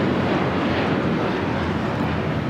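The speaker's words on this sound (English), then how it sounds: "Spirit Airlines 1068 taking off to Chicago on the A321" Spirit Airlines Airbus A321 taking off from LAX, a steady loud roar of jet engines with broadband rushing noise, sustained and unbroken with no voices.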